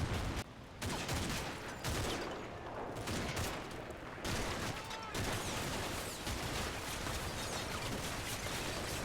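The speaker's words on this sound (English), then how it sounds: "2nd Platoon runs into massed rifle and MG-42 fire" A dense, continuous barrage of rifle and MG-42 machine gun fire in the Combat Mission war game, with rapid overlapping shots and bursts running nonstop at high intensity.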